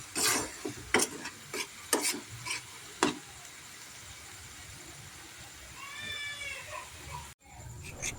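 Jaggery and coconut being stirred in a pan for narkel naru, a series of scraping strokes against the pan over a low simmering bubble, with a brief cat-like meow and faint background sounds toward the end, no talking.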